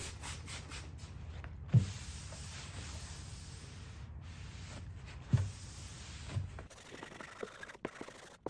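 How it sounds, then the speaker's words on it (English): Small scrub brush rubbing and scrubbing the old fly-specked finish of a campaign coffee table during cleaning, a faint, continuous close scratching with a couple of soft knocks, then quicker, brisker strokes near the end. "Then I'll use a little scrub brush."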